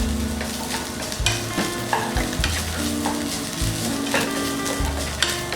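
Grated coconut being roasted in a pan, loud close scraping strokes of a spoon over a steady dry sizzle, with rhythmic stirring repeated every second or so.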